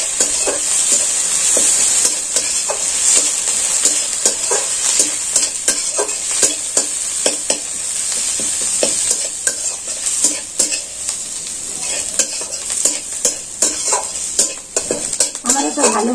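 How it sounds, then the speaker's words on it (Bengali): Curry leaves frying in hot oil in a pan while being stirred, a steady bright sizzle broken by the repeated scrape and clink of a spoon against metal. "আর এটাকে আমি ভালো করে নাড়াচাড়া করে ভেজে নেব"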